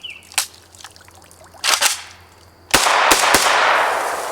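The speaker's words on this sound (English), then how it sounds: "If you want, you can just test fire it and make sure that we're working just fine." An AK rifle fitted with Magpul furniture is test fired after cleaning corrosive ammo residue, giving a few sharp, loud cracks spaced irregularly, the last ones followed by a long ringing decay.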